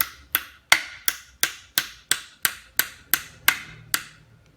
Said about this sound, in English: just give it a few love taps with the hammer.